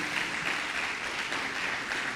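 A church congregation applauding during a worship service, a dense, even patter of many hands clapping together at moderate distance, steady throughout with no voices over it.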